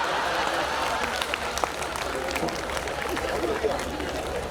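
Audience applause at a Hindi comic poetry recital: a dense, steady wash of clapping with crowd murmur that runs unbroken through the whole stretch.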